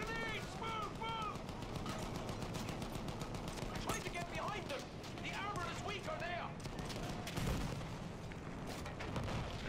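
Machine gun fire from a Battlefield 1 battle, rapid dense bursts rattling continuously under shouting voices and other battlefield noise, with a heavier blast near the end.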